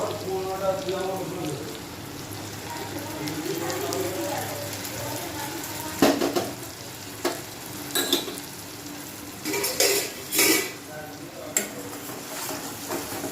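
Chopped onion, tomato, ginger and garlic frying in a pan for a Bengali fish-roe curry, a steady close sizzle with intermittent scraping and clattering of a spatula against the pan.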